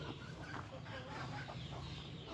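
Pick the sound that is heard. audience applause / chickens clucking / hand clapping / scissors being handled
chickens clucking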